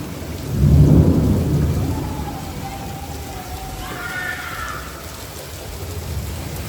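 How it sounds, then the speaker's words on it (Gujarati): A thunderstorm with lightning and heavy rain over Gandhinagar: a loud, deep rumble of thunder rolls in during the first couple of seconds, then a steady wash of downpour continues alone. "ઓલું વીજળી અને કડાકા સાથે વરસાદ પડી રહ્યો છે અને હદ વગરનું તોફાન છે."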